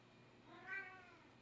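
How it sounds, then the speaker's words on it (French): A house cat gives a single faint drawn-out meow, wanting to be let outside, indoors in a quiet room. "Mon chat qui veut sortir"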